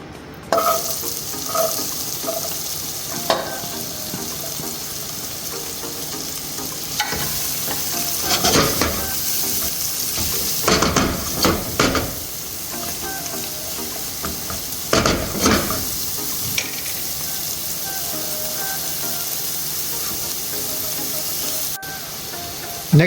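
Onions sauté in heated olive oil for a semi-sweet Filipino spaghetti, producing a loud continuous sizzle and hiss broken by spatula stirring, with no voices.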